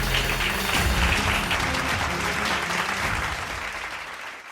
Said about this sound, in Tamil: கைதட்டுங்க ஒருத்தர்.